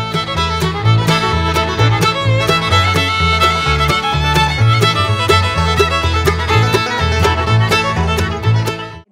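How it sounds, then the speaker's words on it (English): A 4moms mamaRoo infant seat runs steadily near a sleeping baby's bassinet, giving a continuous loud drone with a repeating low pulsing pattern and no talk over it. "Sorry about the noise, but Harper is sleeping, so we need to keep the mamaRoo on."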